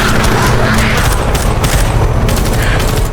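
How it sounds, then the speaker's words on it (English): Dense, sustained gunfire with booming blasts rakes through a zombie-film battle scene, loud and continuous throughout with no pauses. "Gunfire rained down,"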